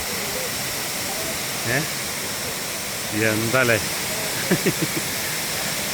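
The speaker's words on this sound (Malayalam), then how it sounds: "രസമല്ലേ ഈ വെള്ളച്ചാട്ടം" A constant broad rushing roar of a waterfall at a water park in China fills the scene, with a few brief voices speaking over it.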